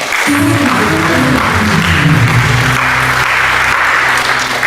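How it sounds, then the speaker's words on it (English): A room applauds honorees at an International Women's Day awards ceremony with loud, dense clapping that carries on without a break. A low tonal hum, likely music, runs under the clapping. "Please give them a round of applause."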